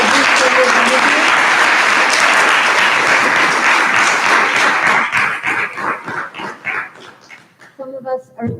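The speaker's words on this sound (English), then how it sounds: "let's give them an amazing round of applause for every single one of you" An audience applauds students, teachers and administrators at a school recognition ceremony. Loud, dense clapping holds steady for several seconds, then thins and fades, with voices and a few scattered claps showing through at the end.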